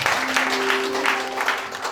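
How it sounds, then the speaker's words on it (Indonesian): Guests at a wedding in Lintongnihuta applaud together, a steady wash of clapping heard up close with faint voices and a sustained tone underneath. "kita berikan tepuk tangan"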